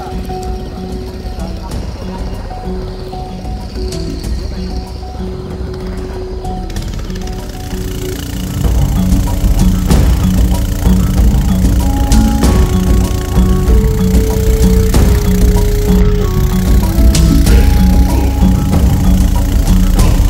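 Motorboats set off one after another toward Remakri resort on a river trip, engines putting steadily and then growing louder and rougher as more start, under faint background voices.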